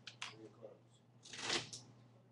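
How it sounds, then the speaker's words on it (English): A deck of playing cards with two jokers is shuffled by hand in a classroom, with a few quick riffling bursts and a longer, louder riffle in the middle, close and fairly quiet. "I'm going to shuffle the two jokers in here."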